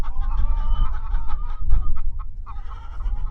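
Chickens clucking steadily at close range among pasture-raised birds on a cattle farm in Swoope, Virginia, a continuous busy flock chatter with overlapping calls and no talk.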